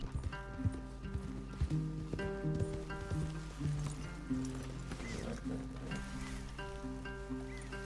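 Horses clip-clopping and moving in the video game Red Dead Redemption 2, a steady run of hoof beats under a sustained musical score, moderately quiet overall.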